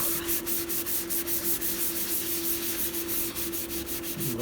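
Glued junk journal pages are rubbed flat by hand in steady, rapid back-and-forth strokes, a close, dry scuffing that continues without pause.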